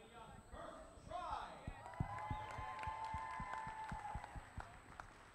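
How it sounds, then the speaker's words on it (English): A crowd at a Pennsylvania robotics championship match claps and cheers for a team in a large hall, with scattered sharp claps under a loud amplified announcer voice. "please give a round of applause for Team"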